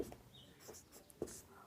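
Pen scratches out a maths solution on paper in a few faint, short strokes with quiet pauses between them, close and soft, with no talking.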